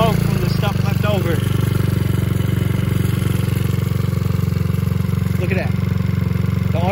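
A Taotao Pony50 pit bike engine idles while warming up after a wreck, a loud, steady low putter with small throttle blips, while a person talks briefly over it.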